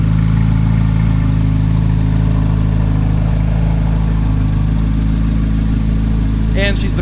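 A nearly new red Chevrolet Corvette Z06 with 333 miles idles close by, a loud, steady, deep engine rumble running throughout while someone talks over it.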